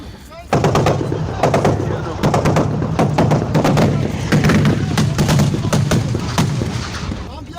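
Gunfire during an armed clash in Cameroon: repeated sharp shots crack in irregular bursts over a steady low rumble, loud and close, continuing throughout.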